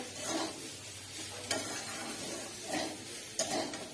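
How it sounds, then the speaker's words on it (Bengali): Pasta sizzles in a hot pan with a soft continuous frying hiss, broken by a few light clinks of a utensil against the pan and occasional stirring swells, close by with no talk. "এ দেখো এবারে পাস্তাটা ঢেলে দিয়েছে।"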